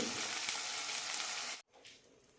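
Okra (lady's finger) sautés in a pan with a steady crackling sizzle that cuts off abruptly near the end, leaving faint quieter frying.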